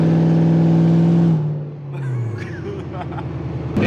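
Lexus LS400 VIP car with a steady engine drone while driving, loud and close from inside the cabin, easing off then building again.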